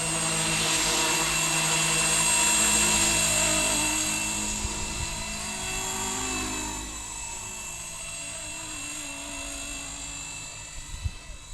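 A small Blade 250 CFX RC helicopter with a three-blade rotor head whines steadily with a high-pitched rotor buzz, shifting in pitch as it maneuvers, then fading slightly.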